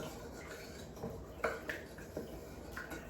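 A spoon stirs melting Crisco in a pot, producing faint, irregular light taps and scrapes against the metal over a quiet background hiss.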